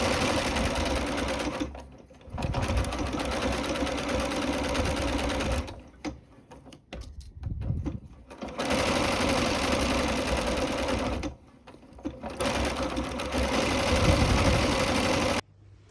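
A sewing machine stitching a blind hem with a blind hem foot, running in steady loud whirring bursts with short pauses between them and a few slower stitches during one break.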